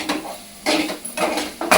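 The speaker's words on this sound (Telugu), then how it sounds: "లివర్ ఫ్రై చేస్తున్నాడు" Kerala-style prawn curry is fried dry in a pan, with short metallic scrapes and clinks of a spatula against the pan over a soft sizzle, close and repeated in quick bursts.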